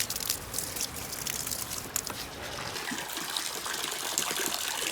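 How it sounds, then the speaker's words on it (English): Water gushes out of a tube at an abandoned riverside spot, a loud continuous broadband rush and splash that keeps going steadily throughout, with no talking. "So much water is coming out."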